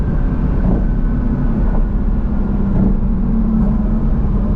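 Porsche GT4 RS flat-six engine held around 6,000 rpm, a steady loud drone close to the microphone with a few faint shift blips, no voices.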